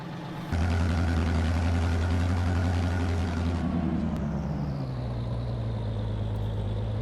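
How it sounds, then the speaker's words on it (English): A tractor engine in the video game Farming Simulator 22 roars to life and runs at a steady low drone, its pitch dropping partway through as it settles into a lower hum, with no talking. "Right, we'll head back down in the tractor to see Jeb."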